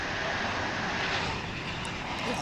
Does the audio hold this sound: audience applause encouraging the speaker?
no